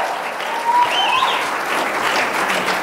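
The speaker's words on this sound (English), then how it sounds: "Would you give them a round of applause?" Church congregation applauds the worship band, a loud, sustained wash of many hands clapping that carries evenly throughout.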